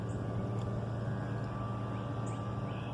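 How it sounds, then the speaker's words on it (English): A steady low engine drone hums throughout, like a small motorboat idling or cruising nearby, with faint outdoor background noise and no speech. "It's somebody in a boat or something"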